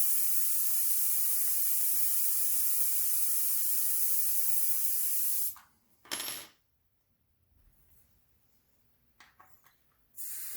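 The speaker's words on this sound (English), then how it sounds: "I just put it right on top of the little valve and let the air out" Air hissing out of an e-bike tire valve, a loud steady hiss for several seconds that cuts off, then a few short bursts of hiss.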